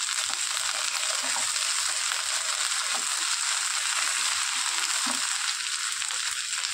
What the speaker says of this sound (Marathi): आलं लसणाची पेस्ट घालते। पुन्हा परतून घेऊ छान।